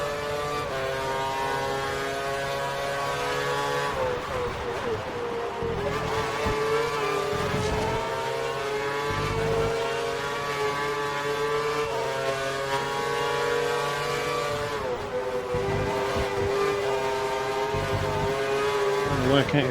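A Lotus Formula 1 car engine howls in a racing video game set at the 2013 Brazil Grand Prix, with sustained high revs that drop and climb through gear changes, while commentators talk over it.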